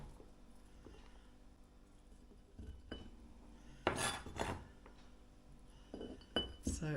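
Chopped cabbage tipped into a clean glass jar, with soft rustles and a few sharp clinks and knocks of glass and utensils around four and six seconds, fairly close and otherwise quiet.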